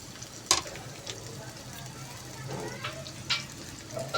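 Garlic and onion sizzle softly in a pan with a low, steady frying hiss, broken by a few sharper crackles and clinks as pieces drop in.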